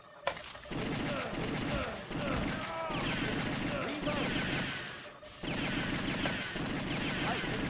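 Repeated booming shotgun blasts in the arcade game Virtua Cop 2 fire in quick succession over an ongoing background din, with brief pauses between bursts.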